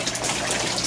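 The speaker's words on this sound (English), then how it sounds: "the bell siphons already starting to empty, and it's feeling empty quite well." Water from an aquaponics bell siphon gushing as it drains a grow bed, a steady close rushing flow with no talk.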